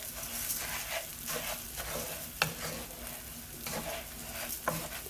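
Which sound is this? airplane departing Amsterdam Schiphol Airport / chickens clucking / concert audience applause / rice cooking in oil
rice cooking in oil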